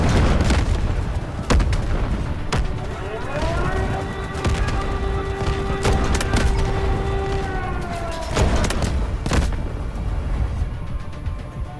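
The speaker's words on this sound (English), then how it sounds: "Now it has the world's weakest coastal artillery." Coastal artillery in the Delta Force Hawk Ops shooter game booms repeatedly alongside a rising and falling siren-like tone, with a steady loud battlefield rumble and a voice talking over it.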